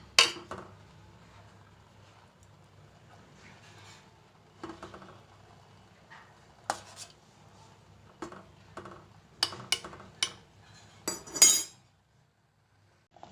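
A spoon scrapes and clinks against a pan while thick ash gourd halwa is stirred, giving irregular metallic taps and scrapes at close range with quiet gaps between them, then silence at the end.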